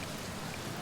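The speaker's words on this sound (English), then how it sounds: "It's a good thing I never get bored of rain, huh?" Steady rainfall on a planet in the video game Outer Wilds, a brief, even wash of soft patter with no voices.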